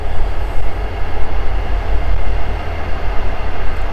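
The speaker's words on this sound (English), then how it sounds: "I'm gonna wait till the train goes by." A passing train, heard near a shooting range, gives a steady broadband rumble with a deep low-end roar that holds level for the whole stretch, with no voices over it.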